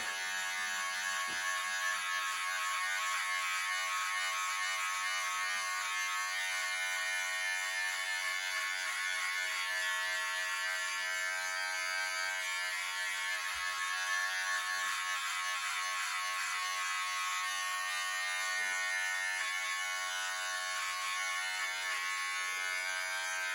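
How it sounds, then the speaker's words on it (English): A steady, high-pitched electric razor buzz runs continuously, close and unchanging, as it cuts a fade into hair, with no voices. "the fade line was created with that electric razor"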